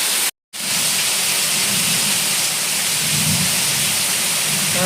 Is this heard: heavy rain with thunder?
yes